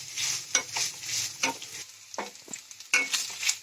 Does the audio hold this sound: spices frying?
yes